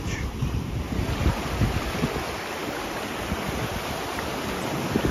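Ocean waves wash steadily at a beach with slightly choppy water, a continuous close rush of surf mixed with gusting wind buffeting the microphone, and no voices.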